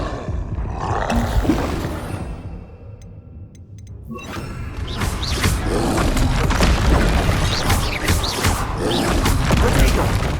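A Confringo fire spell bursts in Hogwarts Legacy on PS5, a roaring blast that swells after a brief lull and stays loud and dense, crackling with debris and combat noise, over a busy fight.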